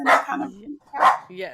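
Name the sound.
dog barking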